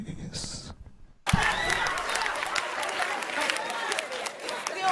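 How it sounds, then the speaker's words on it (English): Applause from a played recording of an audience bursts in abruptly after a short muffled lead-in, a dense crowd clapping with some cheering that runs steadily and fairly loud to the end. "Hear that applause"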